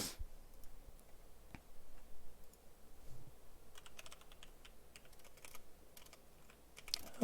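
Computer keyboard typing comes through as scattered, quiet clicks, with sparse keystrokes early and denser bursts of tapping toward the end, alone with no voices.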